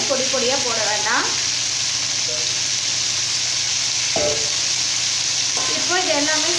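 Cauliflower pieces sauté in oil with onion and tomato for a Tamil cauliflower-pea kurma, giving a steady close hiss of frying throughout, with a few brief voiced sounds breaking in near the start, middle and end.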